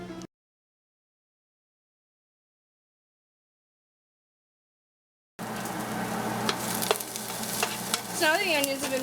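Beef and onions fry in a hot pan, a steady close sizzle with scraping stirs that starts abruptly after a long silence.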